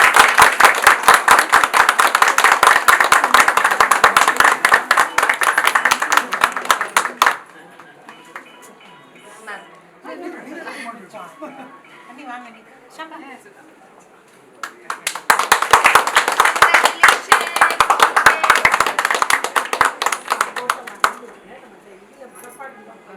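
Audience applause at the ribbon-cutting opening of an Adam Unisex Salon branch in Vajrahalli, Bangalore: loud, dense clapping fills the start, gives way to quieter murmur and chatter, then surges back just as strongly.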